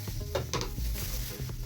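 Hair rebonding treatment mixed in a bowl, quick irregular scraping and tapping of a stirring tool against the container, close and moderately loud.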